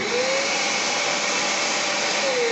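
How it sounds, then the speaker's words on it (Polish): A Parkside PWD 25 A1 wet-and-dry vacuum cleaner runs loudly and steadily up close, a constant rushing roar with a faint whine that shifts slightly in pitch. "Zobaczymy, jak odkurzacz sprawuje się w pracy."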